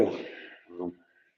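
A single sharp sneeze bursts out at a meeting, loud and abrupt at the start, followed by a short voiced tail and quiet room tone.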